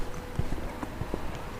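Horses walking on a hillside near Edale on the way to Kinder Scout, with sparse, uneven hoof knocks over steady outdoor wind noise.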